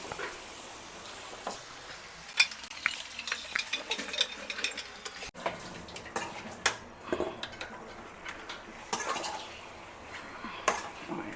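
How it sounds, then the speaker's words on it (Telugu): Marinated chicken fries in butter in a pan at home, a faint low sizzle broken by frequent clinks and scrapes of a utensil stirring against the cookware, with no talking. "కలిపెట్టేసుకున్న చికెను వేయించేసుకుందాం బటర్లో"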